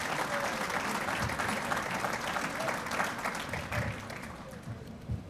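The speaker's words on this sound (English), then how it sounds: "How about another round of applause for ALJ's first Athletic Hall of Fame class?" A crowd applauds at a high school athletic hall of fame induction ceremony, steady dense clapping that holds throughout, with some voices mixed in.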